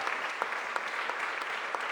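Moderate applause at a mayor's press conference in 2024 as staff are recognized, an even patter of many hands with a few sharper claps standing out over two seconds.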